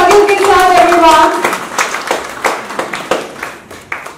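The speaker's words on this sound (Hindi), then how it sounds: "एक बार जोरदार तालियों के साथ एवरीवन" Audience applause at a literature festival at Hindi Bhavan, New Delhi: a voice speaks briefly, then scattered hand claps come through, loud and close at first and thinning into separate claps.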